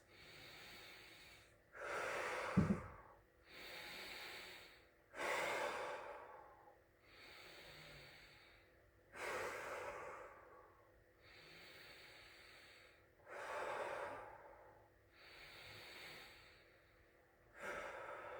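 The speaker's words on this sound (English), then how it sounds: "And then get into those 5 breaths" Slow, deep breaths during a yoga shoulder stretch come in long, evenly spaced rounds, each a close, airy inhale followed by a hissing exhale, with no talking.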